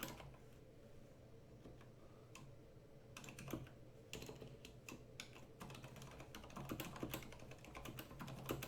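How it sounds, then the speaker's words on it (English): Clattery keystrokes on a new keyboard fitted with Cherry silent red switches, typed in quick irregular bursts with short pauses, fairly close and steady over a low room hum, with no talking. "This is the new keyboard, is it? It's a new keyboard. It doesn't sound any quieter than it used to."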